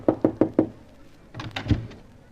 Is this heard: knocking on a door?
yes